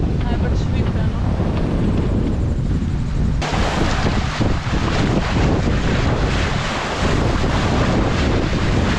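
Choppy sea water sloshes and wind buffets the microphone at Makemo atoll, near sailboats at anchor; a loud, constant rushing roar with no pause.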